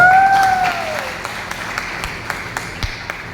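An audience at a mentoring event claps in scattered, sparse bursts that fade out, with a brief musical tone at the start and sharp individual claps standing out near the end.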